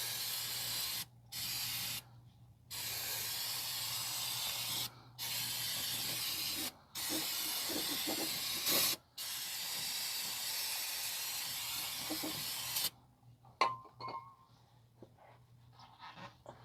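A can of spray cleaner hisses in long bursts with short gaps over the oil pan and drain plug area of a 2017 Nissan Pathfinder 3.5, then falls to scattered clicks and near quiet.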